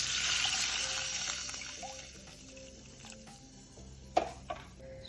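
Water pours into a pot with a hissy gush that tapers off, followed by a couple of faint clinks and drips nearby.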